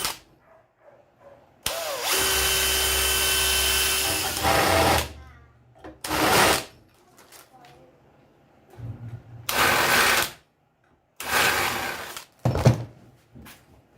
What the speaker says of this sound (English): drill a couple of new holes in it